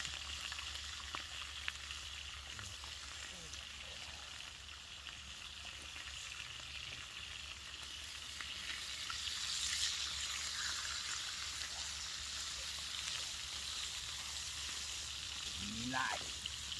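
Bacon fries over a campfire at an army-style camp, giving a faint, steady crackling sizzle that holds for the whole stretch. It is heard from a little distance, with occasional faint outdoor noises and voices in the background.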